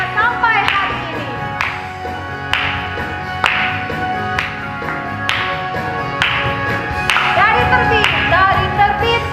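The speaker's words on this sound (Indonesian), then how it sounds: "Yuk kita tepuk tangan semuanya." Rhythmic group hand clapping at a Sunday school service, steady claps at roughly regular intervals mixed with singing and music, moderately loud and close.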